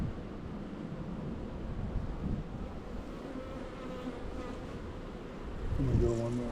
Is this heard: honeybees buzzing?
yes